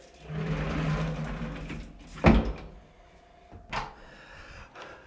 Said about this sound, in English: I think the more fun way to go is take the elevator